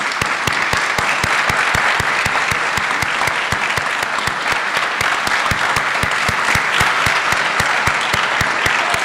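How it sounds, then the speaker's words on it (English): Loud, sustained applause from a large graduation crowd honoring flight academy staff at the University of Maryland Eastern Shore, a dense continuous clapping with sharp individual claps standing out, nearby and steady throughout. "we give you a round of applause, please"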